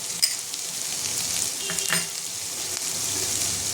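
Potatoes sauté with ground spices in a pan, giving a continuous bright sizzle with a few soft stirring scrapes scattered through it.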